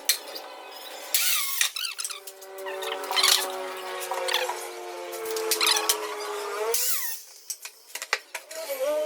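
A machine cuts a metal shop-rack piece to 47.5 inches, giving a steady, squealing, tonal whine for several seconds that starts and stops abruptly, with workshop noise around it.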